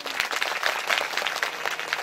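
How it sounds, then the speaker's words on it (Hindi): An audience at a Ramayan katha claps together, a full, steady burst of many hands applauding close by, continuous for a couple of seconds. "अब सब मिलकर ताली मारो"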